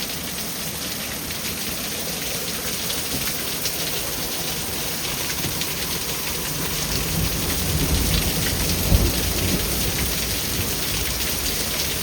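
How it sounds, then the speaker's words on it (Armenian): Hail pelts down during a thunderstorm outside a house with a flower garden: a dense, steady hiss of hard impacts with low thunder rumbling underneath, swelling slightly toward the end, with one sharp close knock near the nine-second mark. "կարկուտ է գալիս։"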